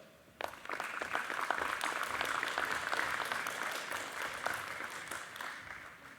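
Steady applause from graduation supporters fills a large ceremony hall, dense clapping from many hands that rises sharply at the start and continues evenly to the end without speech.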